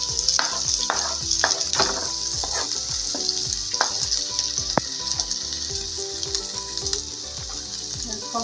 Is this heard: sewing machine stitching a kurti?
no